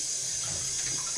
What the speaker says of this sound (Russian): Плещется мальчуга.